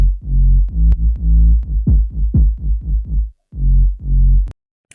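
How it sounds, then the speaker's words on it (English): Synth bass built from a sine and a saw wave oscillator in a house remake, deep sub-heavy notes in a bouncy, syncopated pattern with short gaps, played alone. "The bass sounds like this."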